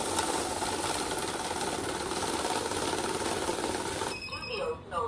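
A cash counting machine whirs rapidly through a stack of banknotes with a dense, continuous mechanical flutter, then stops abruptly near the end, leaving quieter handling noises; speech overlaps.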